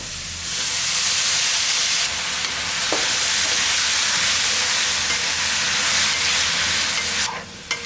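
Long-cut banana stem pieces sautéing in a pan for sambar, giving a steady, loud broadband sizzle that continues unbroken for several seconds with only faint scraping beneath it.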